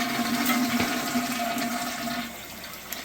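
A toilet flushes with a steady rush of swirling water that gradually eases as the tank begins to refill, heard close in a small bathroom.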